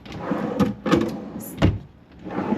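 Wooden drawers in a hotel room's small bar area slide and bump open, a few close thuds and rattles spaced across a couple of seconds, near and fairly loud.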